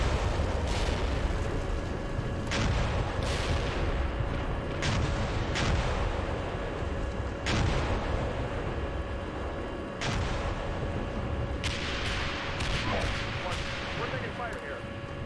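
Incoming gunfire and artillery crash around a tank battle in the simulator Steel Beasts Pro, Cold War Reforger '87 scenario: repeated sharp booms and bursts over a constant engine rumble, with a talking voice underneath.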